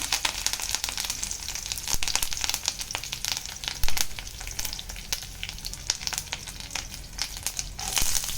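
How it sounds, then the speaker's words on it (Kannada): Spices and gram sizzle and crackle in hot oil in a pan for paneer masala gravy, a steady dense frying hiss with scattered sharp pops and stirring scrapes, close and continuous with no talk. "ಹಾಕ್ಕೊಂಡು ಸ್ವಲ್ಪ ಫ್ರೈ ಆಗಬೇಕು. ಸೊ ಇದಕ್ಕೆ ನಾವು ಸ್ವಲ್ಪ ಕಡ್ಲೆ ಸೇರಿಸ್ಕೊಳ್ಳೋಣ"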